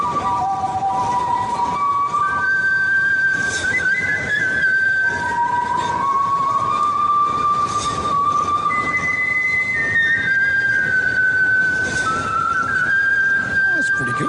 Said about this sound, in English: Here is Chris Ullman, international whistling star, whistling the Star Spangled Banner.